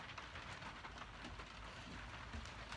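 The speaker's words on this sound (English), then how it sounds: "The snow has turned into rain. Listen to that." Steady rain falling outside after snow turned to rain, a dense, even hiss of drops on surfaces that carries on without a break, fairly close, with no voices.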